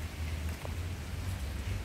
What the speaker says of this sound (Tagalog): Ang lakas ng hangin. Ayan, may kunting ulan.